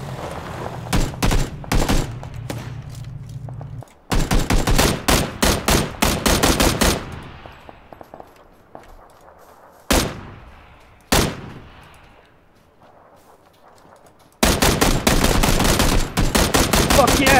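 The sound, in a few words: gunshots in video game PlayerUnknown's Battlegrounds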